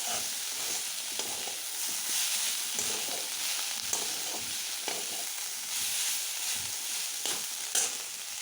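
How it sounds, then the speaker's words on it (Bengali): Ingredients for bharta frying in a pan until reddish, a steady sizzle broken by repeated stirring scrapes, moderately quiet and close with no talking. "লাল করে ভেজে নেব।"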